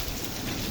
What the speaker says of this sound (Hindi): ये पहली बारिश है जी